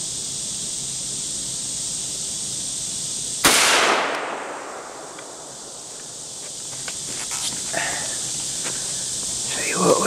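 An M1 Carbine fires a single sharp gunshot outdoors, a sudden loud crack trailing off in a short echo, with insects buzzing steadily in the background and faint movement afterward.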